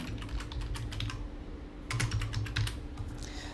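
Fingers typing credit card details on a computer keyboard, quiet rapid key clicks in two bursts with a short pause between them, close and alone.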